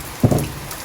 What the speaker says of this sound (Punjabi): ਚੈੱਕ ਕਰੋ ਤੁਸੀਂ ਬਾਰਿਸ਼